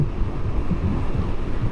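Wind buffets the microphone of a motorcycle on a road tour in hot weather, a close, loud, low rumbling roar that flutters unevenly throughout.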